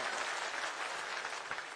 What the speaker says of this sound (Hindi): उनके लिए जरा जोरदार तालियों से उनका स्वागत करें।